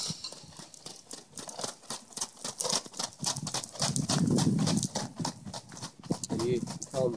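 A Morgan gelding trots at an easy pace, its hooves clip-clopping in a quick, steady rhythm close by, while a person talks over the hoofbeats.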